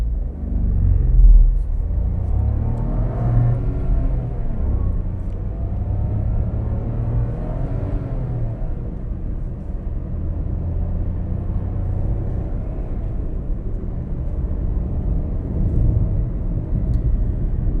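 A 2026 Nissan Gravite N-Connecta seven-seater pulls away in first gear with the AC running, giving a steady low engine rumble from inside the cabin that swells slightly at the start and stays even throughout.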